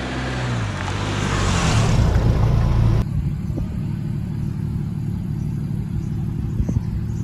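Porsche GT4 sports car engine rumbling loud and close, a rising rev for the first three seconds, then a steady lower drone continuing to the end.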